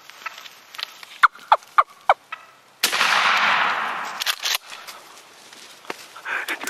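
A wild turkey gobbler gobbles in a rapid burst of several loud calls during a spring hunt, followed by a loud gunshot blast that rings out, then faint shuffling.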